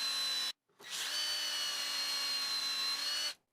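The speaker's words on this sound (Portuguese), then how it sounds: "Depois, eu solto o guia da furadeira, deslizo ele um pouco para o lado e faço os 2 primeiros furos" A power drill whines steadily at close range, drilling holes in wood with a drill jig, stops briefly, then spins up again and runs continuously before cutting off.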